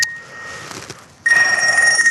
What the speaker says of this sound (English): I've left my phone on